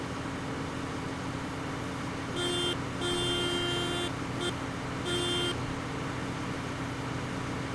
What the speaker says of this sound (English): He honked back at me.